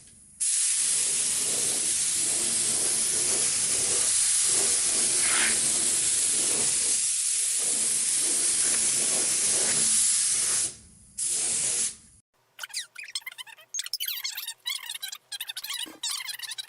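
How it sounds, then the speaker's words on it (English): Large spray gun laying etch primer onto the inside of a Toyota Landcruiser 200 Series bonnet, a loud steady broadband hiss running for about twelve seconds with brief breaks, then stopping into quieter workshop sounds. "I'll hit the inside or interior of the bonnet with some etch primer"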